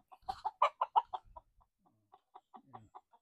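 SBR cross gamefowl stag clucking nearby, a quick burst of sharp clucks followed by a softer, sparser run of single clucks in an otherwise quiet setting.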